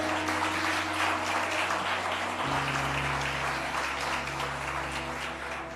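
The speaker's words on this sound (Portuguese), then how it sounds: "Dá para selar com aplauso isso?" A church congregation at a Lisbon service claps in sustained, dense applause that slowly fades, with organ or keyboard tones held underneath and no speech.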